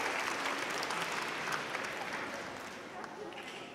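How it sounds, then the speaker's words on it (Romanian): Sustained applause from a large concert audience, dense and steady, clapping that fills the whole stretch and eases slightly toward the end. "aplauze pentru sărbătoriții noștri"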